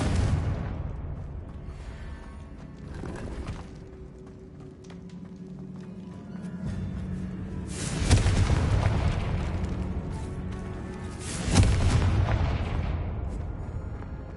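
Fiery explosive spell blasts in the video game Hogwarts Legacy, two loud booming impacts a few seconds apart over a rumbling, clattering game soundscape.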